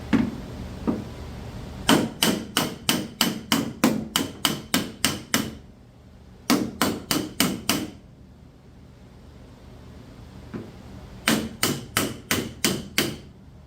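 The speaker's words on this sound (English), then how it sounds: "finish hammering stuff around, because this has got to go a little flatter" Bursts of rapid metallic hammer blows on a 1967 Corvair body panel, five to eight quick strikes per group, separated by short pauses, close and sharp.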